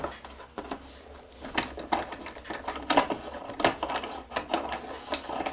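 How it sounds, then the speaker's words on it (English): A clamp is ratcheted down on a rolling cart drawer during a dry fit, giving a series of sharp mechanical clicks and creaks in irregular bursts, fairly close and clear. "and clamp it down."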